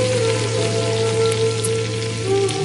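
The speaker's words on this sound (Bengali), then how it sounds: "আমি মাছের ডিমগুলোকে উল্টিয়ে দিচ্ছি, এই তো ভয়ে ভয়ে, কারণ এগুলো না অনেক বেশি ফুটে" Hilsa fish roe fries in hot oil in a pan with a dense, steady crackle and spluttering, close and continuous over a low hum of steady background noise.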